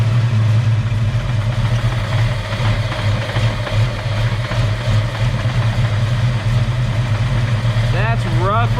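A Ford 306 V8 in a Foxbody convertible idles roughly and unevenly as if about to stall, a loud low rumble with some background voices underneath.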